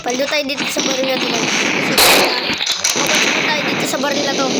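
Rapid automatic gunfire from a video game crackles in dense bursts with a sharp louder blast midway, while players talk excitedly over the shooting.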